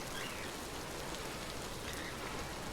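Steady rain falls in the survival game Vintage Story, a dense, even hiss of drops pattering on surfaces that continues unbroken throughout, moderately quiet with no voices.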